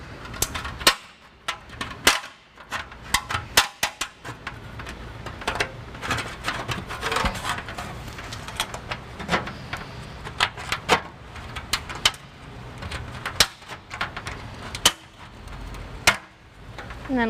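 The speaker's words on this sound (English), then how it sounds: "I'm going to use tin snips to remove just this piece of the heat shield" Tin snips cut a metal heat shield under a 2018 Chevrolet Cruze hatchback, producing a series of sharp metallic clacks and crunching snips at irregular intervals, close up, with faint scraping between cuts.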